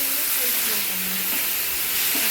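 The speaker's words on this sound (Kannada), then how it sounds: "ಸ್ವಲ್ಪ ಹೊತ್ತು ಫ್ರೈ ಮಾಡೋಣ." Tomato frying in a pan with oil for egg bhurji, a steady soft sizzle and hiss running evenly throughout with faint stirring scrapes.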